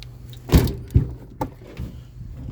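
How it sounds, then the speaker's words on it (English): Side sliding door of a Ford E350 van being opened, a few sharp metallic clunks and a latch release in sequence, close by with no speech. "we'll open the side door over here so you can get a look"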